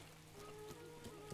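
Steady rain falling in Zelda: Breath of the Wild, a soft continuous patter with a few slightly louder drops and a faint background tone, with no talking.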